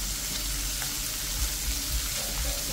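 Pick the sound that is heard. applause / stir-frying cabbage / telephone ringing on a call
stir-frying cabbage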